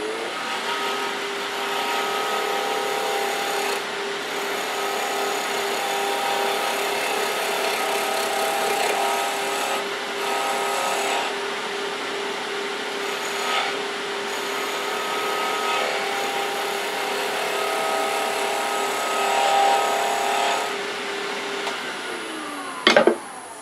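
A wooden stool part spins on a woodturning lathe as a tool takes smoothing cuts, giving a steady, loud motor hum with a constant tone and light scraping texture that runs throughout and stops abruptly at the end.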